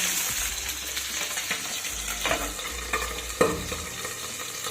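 Pabda fish fry in hot oil in batches, a steady dense sizzle and crackle running throughout with occasional louder pops and spatters, close by and with no talking.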